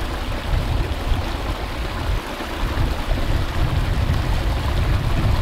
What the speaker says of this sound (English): Look at this little waterfall with the trout spawning there.